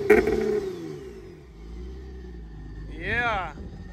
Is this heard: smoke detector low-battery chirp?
no